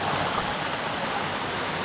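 A waterfall and stream at Hidden Falls near Maleny pour in a steady, dense rushing roar, close and unbroken, with no voices.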